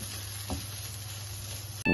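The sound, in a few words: ingredients frying and being stirred in pan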